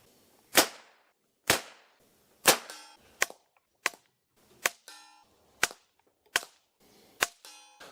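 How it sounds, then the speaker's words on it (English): About eight sharp gunshot cracks from a Bergara .22LR rifle fitted with a Banish suppressor fire one after another at a steady, unhurried pace, each a short punchy pop, some with a brief metallic ring after it. "Is there a difference in the sound on that Bergara with the Banish 223 can and the Banish 22 can?"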